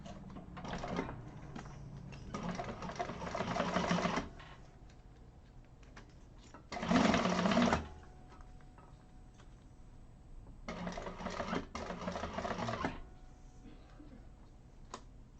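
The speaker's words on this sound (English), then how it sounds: "sewing these things onto the main body of the whole bag" Sewing machine stitching a handbag in a class setting, with several short bursts of rapid ticking stitches separated by pauses, moderately quiet with faint room noise and voices.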